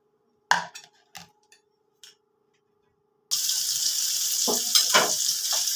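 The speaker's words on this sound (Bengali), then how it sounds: "আরও আমি এখানে 5খানা ভাজতে দিয়েছি কড়াতে।" Stuffed pointed gourds (potol) frying in a wok, a loud, steady, close sizzle that starts abruptly after a few sharp clinks and taps and continues without pause.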